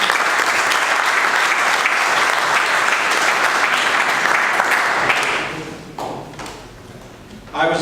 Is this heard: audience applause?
yes